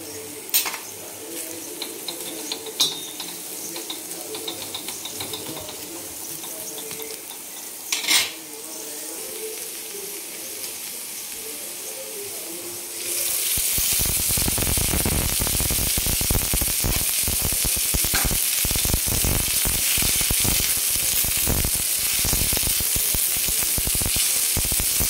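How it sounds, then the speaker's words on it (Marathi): Two large onions, sliced lengthwise, are tossed into a little oil on a griddle and break into a loud, continuous sizzle with stirring scrapes, after some quieter clinks of utensils. "2 मोठे कांदे उभे चिरून घेतलेले आहेत आणि थोडंसं तेल टाकून आपल्याला भाजून घ्यायचे सोनेरी कलरवरती"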